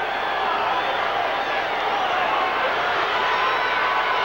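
Football stadium crowd at a 1981 Chiefs versus Raiders game, a loud, sustained roar of cheering that fills the space without pause.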